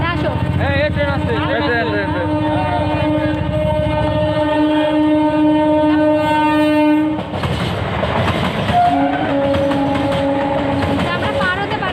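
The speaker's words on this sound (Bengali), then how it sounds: "এই ট্রেন আসছে" A train approaching a level crossing sounds long, loud blasts of its horn over a heavy rumble of wheels, then shifts to a second horn chord as it passes close by.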